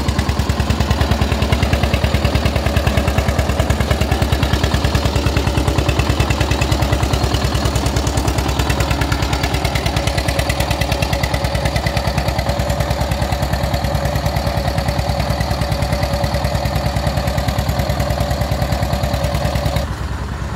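Old diesel tractor engine running loud and close, a steady rough rattling idle that continues without pause, with no voices.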